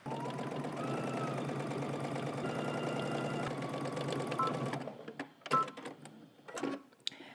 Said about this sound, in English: we're going to head to the sewing machine and we're going to stitch this in place